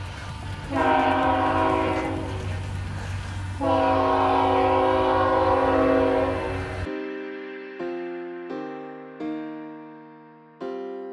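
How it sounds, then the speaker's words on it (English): A train horn sounds in long blasts twice, then shorter repeated honks as the train passes, with rumbling underneath. "You'll also hear that a train is coming by."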